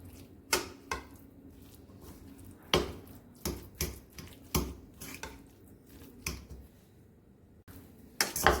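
Sandwich filling with sweet corn stirred in a bowl, a spoon knocking and scraping against the bowl in irregular close clinks and thuds over a quiet background.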